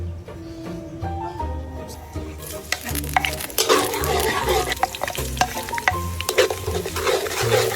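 Garlic and onions sizzle and fry in olive oil in a pan, with steady crackling and occasional stirring scrapes, louder frying building after the first few seconds.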